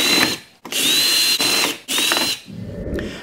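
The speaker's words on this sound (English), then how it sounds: "Next, let's go ahead and remove all four of these screws in here as well." A power drill driving out the screws of an old light switch during a smart switch install, three close, loud whirring bursts separated by brief pauses, with a quieter rattle at the end.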